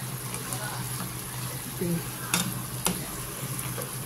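Pakbet vegetables sautéing in a pan, a low steady sizzle under occasional scraping stirs of a spoon, with a couple of sharper clinks and faint background voices.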